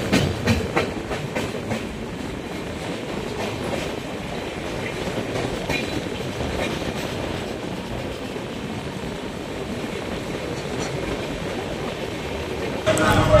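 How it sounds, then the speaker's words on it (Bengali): The Brahmaputra Mail rolls slowly out of a station platform onto the main line, a low steady rumble with soft rhythmic wheel clacks and a person talking. "ধীরে ধীরে ট্রেন এখন মেন লাইনে চলে যাচ্ছে।"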